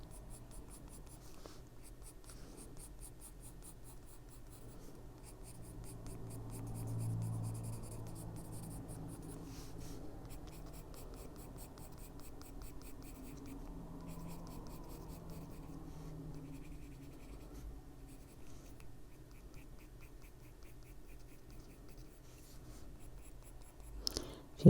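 Colored pencil scratches across paper while coloring a Christmas mouse, a continuous soft scratching of short strokes, close and quiet, with faint murmured talk in places.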